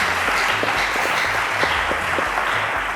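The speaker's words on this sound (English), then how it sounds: "A round of applause to her as well." Steady audience applause greets a contestant on the Cowbellpedia quiz show, a dense, even patter of clapping lasting a few seconds at moderate volume.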